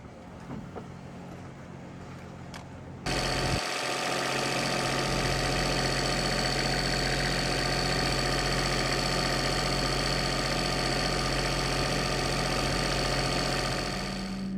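A catamaran's generator engine runs steadily and loudly after a brief quieter lead-in, settling into a constant mechanical drone that fills the rest of the clip.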